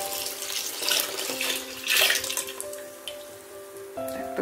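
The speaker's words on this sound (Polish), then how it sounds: "Dodajemy do zakwasu kilogram wody, czyli dokładnie litr." About a litre of water pours from a jug into a bowl of sourdough starter for bread dough, a close, steady splashing stream that swells and eases over soft background music.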